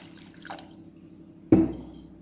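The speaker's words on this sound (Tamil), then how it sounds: "ஒரு பாத்திரத்தில் போட்டு அதுக்கு ஒரு டம்ளர் தண்ணி அளவுக்கு ஊற்றி" Water poured from a tumbler onto jaggery in a cooking pot, a short splash landing abruptly and fading quickly after a faint earlier trickle, close and fairly loud with no voices.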